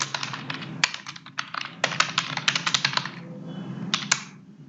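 Rapid typing on a computer keyboard while writing Java code for a database project, crisp clustered key clicks in quick bursts with short pauses, close and clear, no voices.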